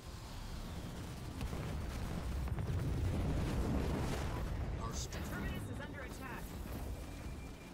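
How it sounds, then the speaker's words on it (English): Turret fire and explosions in a Halo Wars 2 battle, a dense rumbling barrage of booms under ongoing talk, moderately loud and continuous. "I got my turret shooting over again"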